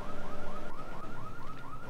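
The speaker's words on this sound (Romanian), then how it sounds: "Sar alarma, dracu să-ți fie." A car alarm in the video game GTA III whoops in quick, evenly repeated rising sweeps, loud and close, with game ambience underneath and no talking.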